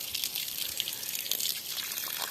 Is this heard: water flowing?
yes